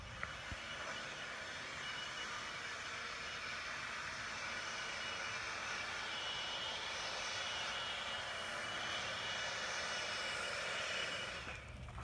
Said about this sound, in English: then we'll blow it off with a blower